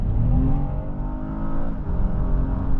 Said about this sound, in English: you can hear the induction noise so much better than you can in the current one